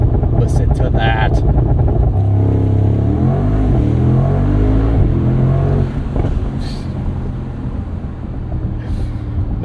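A 2024 Mercedes SL63 AMG twin-turbo V8 roadster launching from a race start, loud engine roar climbing through rising revs and gear changes, close and dominant, with someone talking over it.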